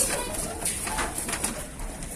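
Soft, repeated cooing of a homing pigeon nearby on a balcony, low throaty calls over a faint background hiss.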